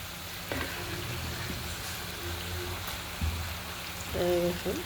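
Fish dropped into a pan of cooked-down spice paste sizzles with a steady, moderately loud hiss, broken by a couple of brief voice-like sounds near the start and end.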